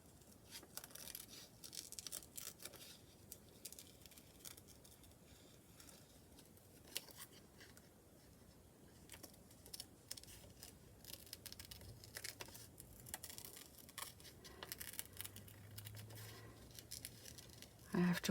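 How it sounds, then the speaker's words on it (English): Quiet, close-up snipping and rustling of paper being cut by scissors, irregular small crisp strokes with soft crinkling in between. "It's glue everywhere on the scissors, so it doesn't cut very well. But it cuts."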